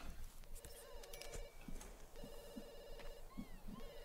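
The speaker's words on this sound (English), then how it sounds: "I think my phone is ringing." A phone rings inside The Sims 2 as a repeating electronic trill in two bursts, playing over steady game music and ambient effects, with no talk.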